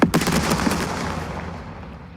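Gunfire in the Second Front war game: one sharp loud shot opening a short burst of rapid reports that decay into a fading rumble, alone without talk.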